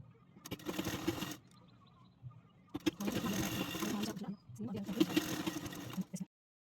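A sewing machine stitches a straight seam on a blouse in three short runs separated by pauses, fairly quiet, with a little speech between bursts.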